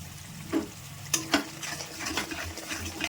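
Ground cumin, coriander and chili powder with tomato paste fry in a pan, a steady low sizzle broken by a few sharp spatula knocks and scrapes as the mix is stirred; no one speaks.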